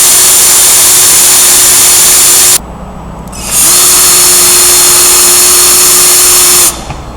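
A drill fitted with a coarse sanding disc grinds paint and rust off metal in a loud continuous whine, cuts off briefly, then spins up again and runs steadily before stopping near the end.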